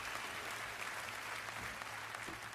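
Audience applause at a George Carlin comedy show, steady dense clapping from a crowd that fills the space without a break.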